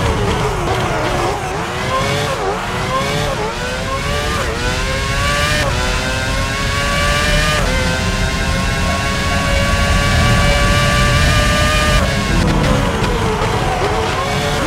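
Formula 1 cars in the PS2 game F1 2006 during qualifying at Hockenheim, a loud close engine whining up and down through gear changes, with further shifts and revs throughout.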